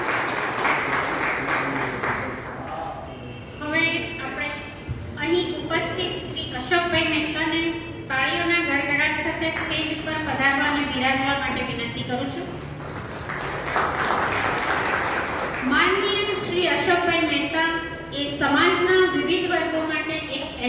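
An audience at the Ujas magazine award programme at Mahida Bhavan, Surat, breaks into bursts of applause on stage, one at the start and another midway, while someone speaks into a microphone between and over the clapping.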